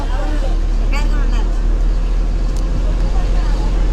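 Steady low engine drone and road rumble fill the interior of a moving bus, constant and moderately loud, with faint voices in the background.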